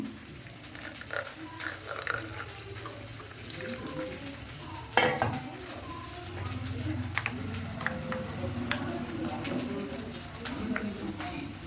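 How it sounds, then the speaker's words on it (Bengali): Spice paste sizzles and fries steadily in a pan for a mustard fish curry with gang mourola fish, a close, continuous crackle with occasional stirring scrapes and a voice talking faintly underneath. "মশলাটা ভাজা হয়ে এসেছে"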